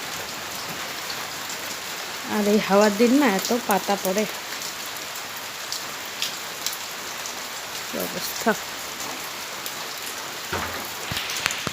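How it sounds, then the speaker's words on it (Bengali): Light drizzling rain patters softly and steadily on surfaces outdoors, a faint, even hiss under a woman's brief speech. "এই বৃষ্টি হচ্ছে টিপির টিপির টিপির টিপির বৃষ্টি"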